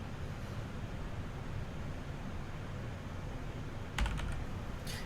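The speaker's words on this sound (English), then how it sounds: "So we'll type in yes and enter." A computer keyboard is tapped in a short quick cluster of keystrokes near the end, faint against a steady hiss of background noise.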